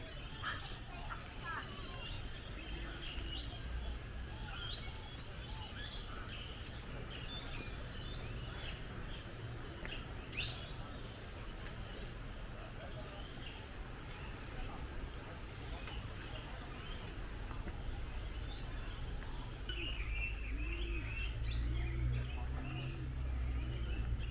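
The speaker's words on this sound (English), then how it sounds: "Currently walking through the bird enclosures." Bird calls and chirps sound through zoo bird enclosures, faint and scattered over a steady outdoor ambience with some murmuring voices nearby.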